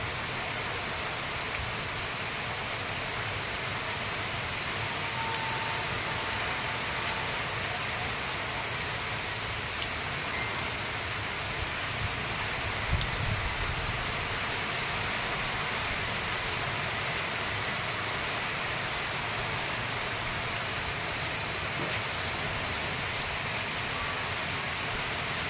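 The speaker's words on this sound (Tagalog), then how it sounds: "Uy, grabe yung ulan" Heavy rain pours steadily as a dense, even hiss of drops beating on surfaces, continuous and loud throughout with no one talking.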